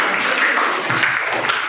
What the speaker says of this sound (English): You should clap for the Biraj.